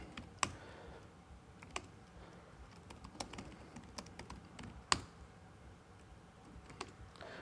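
Sparse keystrokes on a computer keyboard as terminal commands are entered, with isolated taps and a few sharper clicks scattered over steady faint room noise; no speech.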